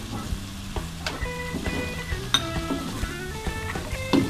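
Young corn kernels and meatballs stir-fry in a hot pan, giving a continuous close sizzle broken by the clinks and scrapes of a spatula against the metal, with no talk.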